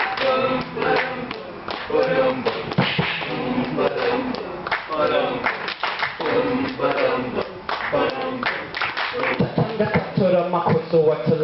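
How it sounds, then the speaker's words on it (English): An audience at an acoustic performance during a startup weekend in Harare claps steadily in rhythm along with a song, sharp hand claps mixed with voice and music throughout. "So we'll start with the claps, yeah?"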